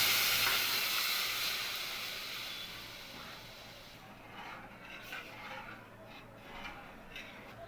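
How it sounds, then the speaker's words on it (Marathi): Pressure-cooked lentils are tipped into a hot tempering, setting off a loud burst of sizzling and hissing that slowly settles into a quieter fry with stirring scrapes. "जी आपण डाळ कुकरला शिजवून घेतली ती फोडणी द्यायची"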